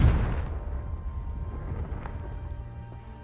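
A Confringo blasting curse erupts in Hogwarts Legacy as a loud booming explosion at the start, then decays into a long rumbling tail and faint debris crackle.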